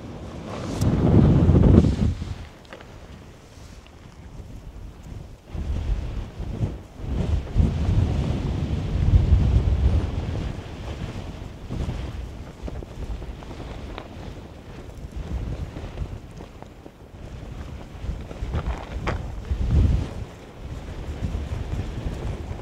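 Strong wind buffets the microphone in loud, rumbling gusts that rise and fall in the Valley of Fire, with no voices.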